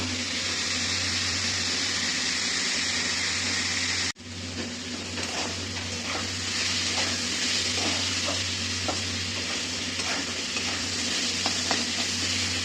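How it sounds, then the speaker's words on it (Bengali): Food fries in a pan with salt and turmeric, a dense steady sizzle running throughout with a brief break partway, plus faint stirring scrapes and clicks, close and continuous with no talk. "এটা এবার ভালো করে ভেজে নেব।"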